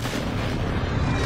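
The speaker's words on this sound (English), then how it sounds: "Friendly precision airstrike inbound." Precision airstrike explosions in the video game Warzone 2.0 rumble as a dense, continuous low boom, loud and sustained for about a second.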